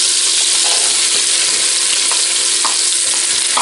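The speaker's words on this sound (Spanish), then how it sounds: "Ahora lo que hacemos es echarle la cebolla." Chopped onion frying with chicken in a GM G electric pot, a loud continuous close sizzle with stirring scrapes and occasional crackles, no speech.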